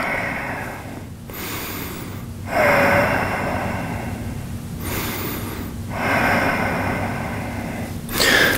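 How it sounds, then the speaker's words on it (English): Slow, deep breaths during lower-back stretching, each long inhale and exhale heard as loud airy rushes close to the mic, repeating at a steady, unhurried pace. "Take a couple of more breaths."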